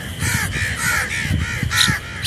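Crows cawing outdoors near a free-flying pet myna, a rapid series of harsh, loud, close caws repeating several times in quick succession with no voices.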